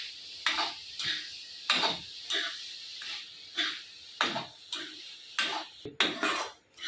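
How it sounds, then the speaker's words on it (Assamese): Grated coconut and semolina being roasted together in a pan, a spoon scraping and knocking against the metal in repeated strokes, close and moderately quiet, without talk. "মই ইয়াতে চুজিখিনি দি নাৰিকল আৰু চুজিখিনি একেলগে ভাজি ল'ম অলপ সময়"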